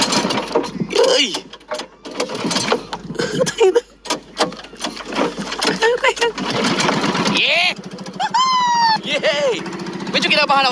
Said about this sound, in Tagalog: Makina ng bangka.